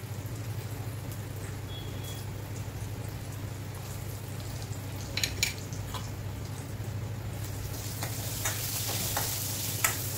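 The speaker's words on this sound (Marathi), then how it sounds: "या तेलामध्ये आपल्याला हे वांग शिजवून घ्यायचं आहे आधी आणि मग बाकीचं आपण घालू" Small pieces of brinjal frying in oil make a steady, close crackle, with a low hum underneath and scattered spatters and stirring clicks that grow busier toward the end.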